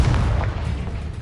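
Confringo blasting spell exploding in the video game Hogwarts Legacy, a deep, rumbling boom that stays loud and dense throughout with no talk over it.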